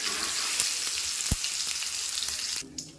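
Chopped tomatoes frying in hot oil for a bitter gourd curry, giving a steady, close sizzle with faint stirring scrapes, fading out near the end.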